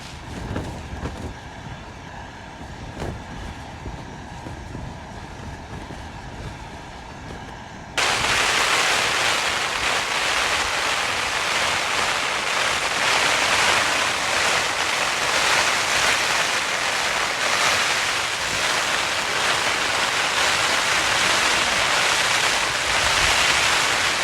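A heavy storm with 50 mph wind and heavy rain batters a wild camping spot, a dense continuous roar of wind and rain that grows abruptly louder partway through and stays intense.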